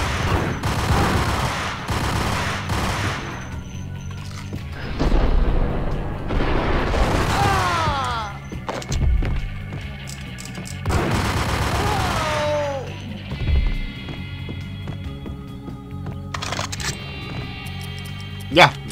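Grenade blasts from an M79 launcher and gunfire in the video game Max Payne, several heavy booms and bursts of shots spread throughout, with someone talking over the action and a sharp final hit.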